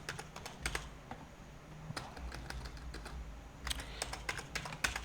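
Typing on a computer keyboard while entering the Ctrl Shift N shortcut to make a new folder: quiet, close key clicks in irregular bursts, with a busier flurry near the end.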